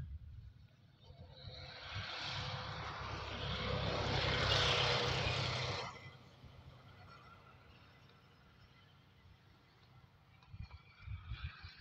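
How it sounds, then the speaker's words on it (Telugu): A spraying drone flies over a tobacco field, its rotor whine swelling louder as it passes close and then fading to a distant hum, with a faint return near the end. "దీనికి డ్రోన్ సహాయంతో మందు పిచికారీ చేస్తున్నారు"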